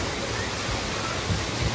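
Water pours steadily into the giant tipping bucket at the Waterbom Bali aqua park, a dense broadband splashing rush filling the scene, with faint voices of children and adults mixed in.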